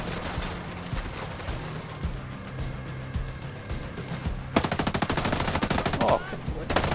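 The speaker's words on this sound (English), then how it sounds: "Still shooting mortars at me." Video game combat with mortar strikes and gunfire: dense rapid automatic fire throughout, swelling into a loud burst of rattling shots in the second half.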